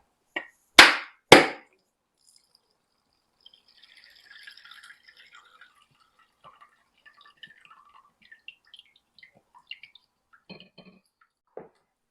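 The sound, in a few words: coconut being broken open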